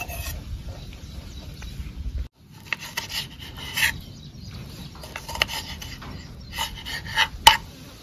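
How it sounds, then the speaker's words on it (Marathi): Knife cutting tomatoes outdoors on a farm, giving a run of soft scraping and rasping strokes at close range, with a brief pause and a sharp click near the end, over faint outdoor background. "आता कापायला सुरुवात करतो मी।"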